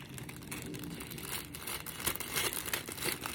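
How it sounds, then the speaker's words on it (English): A full red sheet, likely paper or cellophane for a Valentine's candy bouquet, crinkles and rustles steadily as it is cut into four pieces, close and continuous with sharper crackles near the end. "And I'm going to show you how I just cut it in fours."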